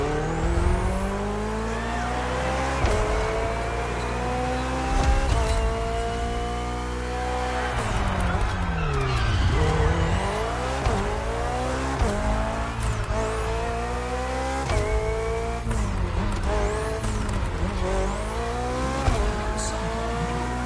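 BMW hybrid V8 race car in The Crew Motorfest, loud and close, its engine note climbing and dropping sharply through repeated gear changes, with tire squeal and a constant hard-driven roar.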